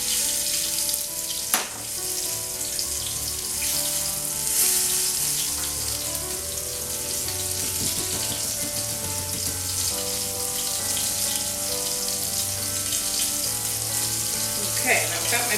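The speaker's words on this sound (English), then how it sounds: "I've got my pork chops cooking behind me, and they sure are making a lot of noise" Pork chops fry in a pan with a loud, steady sizzle and crackle that fills the whole stretch, with a sharp clatter near the start, and no one speaking.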